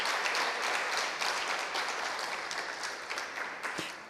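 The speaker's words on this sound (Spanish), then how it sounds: "Un aplauso a Dios." A church congregation gives steady, full applause, a dense and fairly close wash of many clapping hands that continues without a break throughout.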